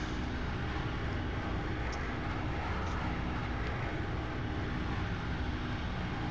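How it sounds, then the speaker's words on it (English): Pratt & Whitney airliner engines in a flight simulator hold a steady, broad roar from start to finish, with no voices. "the Pratt & Whitney sound really good"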